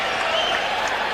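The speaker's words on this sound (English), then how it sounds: "And the crowd loves it" Boxing arena crowd at a Roberto Duran versus Roni Martinez fight cheering in a steady, loud roar of applause and voices filling the hall without a break.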